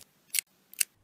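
Scissors snip the tip off a plastic piping bag filled with choux pastry dough, two crisp, close cuts a half second apart in a quiet kitchen.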